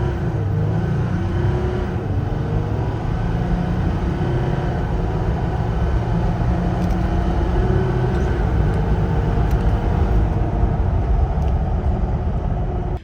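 A diesel Jeep Gladiator with a transmission tune accelerates from a stop. The engine drones steadily and loudly from inside the cab the whole way through, with no talking.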